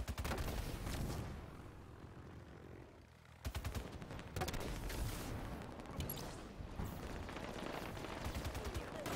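SAW machine gun firing in Halo 5 big team slayer on the Guillotine map, dense sustained automatic bursts with a brief pause partway, under player chatter.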